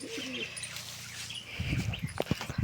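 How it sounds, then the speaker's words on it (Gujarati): Pigeons coo low and soft in a loft where they have come down together, with scattered chirps and a few sharper knocks and flutters later on. "બધા કબૂતર નીચે આવ્યા છે."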